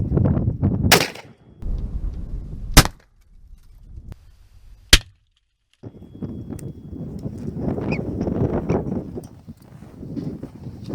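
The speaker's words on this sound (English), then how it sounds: "I'm going to shoot a shot through the windshield" A rifle firing 52-grain hollow point rounds through a vehicle windshield gives three sharp, loud cracks spaced a couple of seconds apart, with rustling and handling noise in between.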